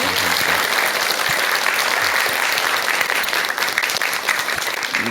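A seated audience at a Buddhist talk about the Dalai Lama claps loudly and steadily, a dense, continuous burst of applause filling the room for several seconds.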